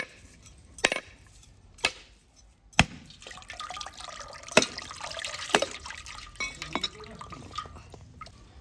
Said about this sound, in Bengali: নারকেলটা এরপর আমি খুব ভালোভাবে ধুয়ে নিয়েছি।